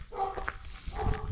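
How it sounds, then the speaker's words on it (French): Village dogs rushing out while barking on a rural hiking trail, several yaps and barks at mid distance over low rumbling background noise. "Les chiens qui déboulent."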